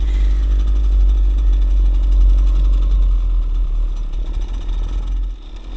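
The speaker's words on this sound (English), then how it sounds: "These are off-road bikes, they can go anywhere." Off-road dirt bike engine running steadily up close, a low rumbling idle with some clatter that eases slightly toward the end.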